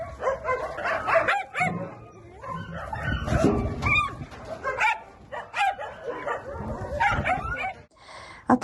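Many dogs crowded into a large shelter enclosure housing thousands of animals, barking, yipping and whimpering over one another in a dense, continuous, close-up din.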